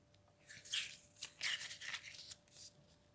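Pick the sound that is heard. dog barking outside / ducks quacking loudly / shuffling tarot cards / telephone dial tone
shuffling tarot cards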